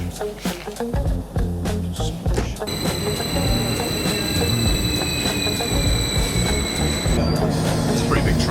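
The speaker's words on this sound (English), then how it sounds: "It's a pretty big train." A big train rumbles steadily nearby, with a long high metallic squeal of wheels in the middle and voices talking over the noise.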